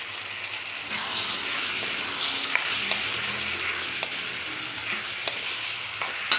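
Carrots tipped into a frying pan of vermicelli upma, a steady close sizzle of frying with faint clinks and scrapes of stirring scattered throughout.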